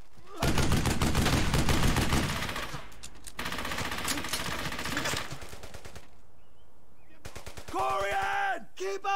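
Rapid gunfire in the WWII shooter Brothers in Arms: Hell's Highway, bursts of shots under shouted voices, followed by quieter battle noise and speech near the end.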